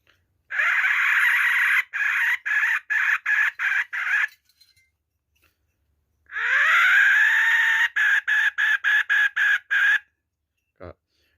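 Piercing two-hole Thai chicken-call whistle mimicking a rooster: a sustained crowing note breaking into quick staccato clucks, heard in two loud close sequences separated by silence.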